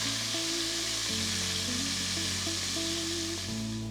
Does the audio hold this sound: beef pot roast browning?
yes